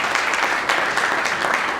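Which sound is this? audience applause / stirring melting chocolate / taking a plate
audience applause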